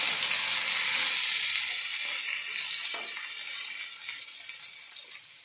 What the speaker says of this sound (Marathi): त्याला फ्राय करून घ्यायचं आहे।